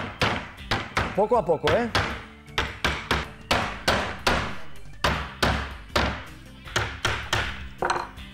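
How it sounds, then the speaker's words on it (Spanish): Nails are hammered back into a flush-trimmed wooden piece for an outdoor shower build, with a long series of sharp, close hammer blows in uneven rhythm while someone speaks briefly. "enrasamos la pieza y la clavamos de nuevo"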